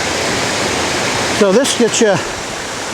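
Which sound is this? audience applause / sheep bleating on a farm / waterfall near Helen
waterfall near Helen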